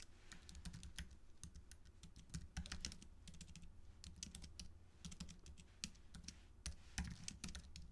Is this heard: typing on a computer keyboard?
yes